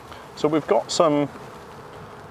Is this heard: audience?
no